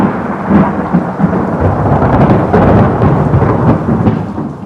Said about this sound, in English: Then came the devastating stroke of lightning, which shook the whole mountain.